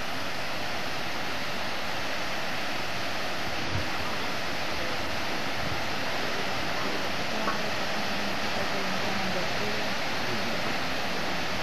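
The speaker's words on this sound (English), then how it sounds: "And this time in front of the waterfall." A palace garden waterfall at Vienna's Schönbrunn Palace gives off a steady, loud rushing roar of falling water. It stays unbroken throughout, with no clear speech.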